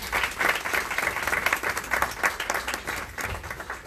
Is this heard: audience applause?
yes